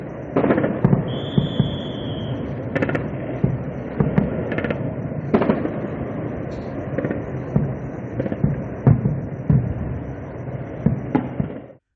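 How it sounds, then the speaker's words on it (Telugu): Repeated loud explosion blasts and cracks ring out over a constant rumbling background in Jammu and south Kashmir, scattered irregularly across the whole stretch with no talking. "జమ్మూ, దక్షిణ కశ్మీర్లోని పలు ప్రాంతాల్లో పేలుళ్ల శబ్దాలు వినిపించాయి"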